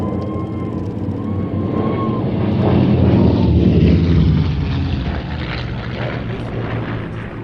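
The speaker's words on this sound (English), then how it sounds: "Expertly piloting the P-51 is Eskil Amdahl" P-51 Mustang propeller fighter flying an airshow routine at Sywell, its engine a loud steady roar that swells as it passes nearer and then eases away, with no voices.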